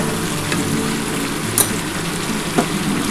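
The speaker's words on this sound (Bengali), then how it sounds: "আমি গরম জল দিয়ে দিচ্ছি। এই যে দেখো, পুরো টকবক করে উঠছে গরম জল।" Hot water is poured into a thin mutton curry with papaya and potatoes, setting off a steady bubbling sizzle with a couple of sharper spits and pops.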